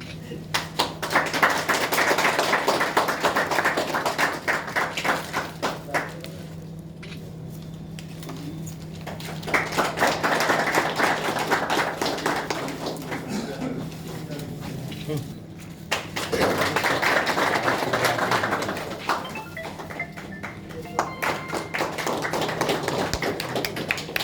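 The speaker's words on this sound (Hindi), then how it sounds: "ताली जोर से, ताली जोर से।" Audience applause at a retirement ceremony for a substation foreman, sustained bursts of dense hand clapping that rise and fall in three long waves, with voices speaking between them.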